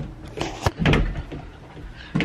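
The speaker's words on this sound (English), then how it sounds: "We gotta close the door." A door is pushed shut at home, giving a few dull thuds and knocks with some rustling handling noise in between, fairly close and loud.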